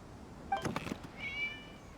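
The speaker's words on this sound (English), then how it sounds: "It was just a cat." A cat in Genshin Impact gives a short meow followed by a thinner, drawn-out second cry, fairly quiet against a hushed background.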